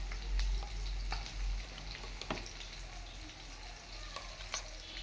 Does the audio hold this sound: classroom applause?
no